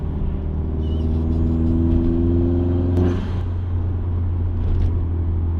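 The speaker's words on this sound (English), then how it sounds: "Something about that turbo noise." A 2002-2003 Subaru Impreza blobeye idles with a low steady drone, and a short whooshing release of its turbo bursts out midway before the rumble continues.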